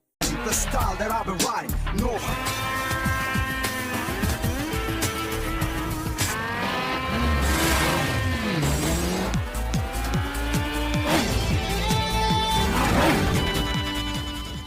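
Motorbikes in an illegal street race in a film: loud engines rev and whine up and down continuously, with dense, busy soundtrack layers throughout.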